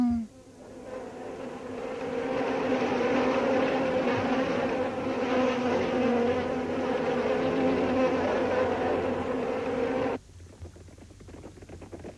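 A steady, loud mosquito buzzing drones for about ten seconds, then cuts off abruptly, leaving quieter background noise.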